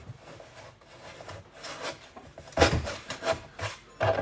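A tool scrapes old glue off wooden blocks from a kitchen in short uneven rasping strokes, close and moderately loud, with sharper scrapes near the end.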